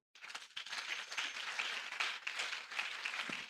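A church congregation applauds during a Sunday service, sustained crowd clapping that starts abruptly and continues dense and fairly even, heard from a moderate distance.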